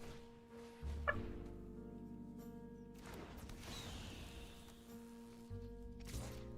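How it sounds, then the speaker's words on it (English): A baby chicken clucks in a video game, with short chirpy calls near the one-second mark and again near the end over a steady game soundtrack. "Baby chicken."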